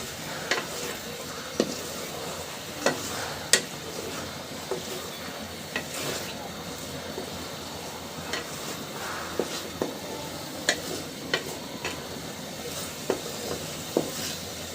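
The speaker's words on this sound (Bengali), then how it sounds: "মশলাটা মাছের সঙ্গে খুব ভালোভাবে মিশিয়ে নিব।" Spiced tengra fish being stirred with masala in a frying pan, a steady sizzle under repeated scraping clicks of a spoon against the pan, with no talk.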